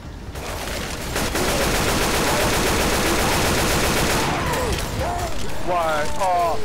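A mounted machine gun turret in Left 4 Dead 2 fires in loud, sustained, rapid bursts that go on almost without a break, with voices shouting over the top toward the end.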